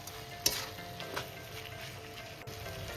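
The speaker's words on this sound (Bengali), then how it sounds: "এবার আমি ডালের সাথে একটু মশলাটাকে ভালো করে একটু কষিয়ে নিচ্ছি।" Dal being sautéed with spices in a pan, a soft steady sizzle with a few light stirring knocks, close and fairly quiet, without talk.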